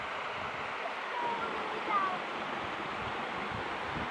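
Waterfalls and a flowing stream in a natural setting: a steady, broad rushing wash of water, moderately loud and unchanging, with a voice briefly heard over it.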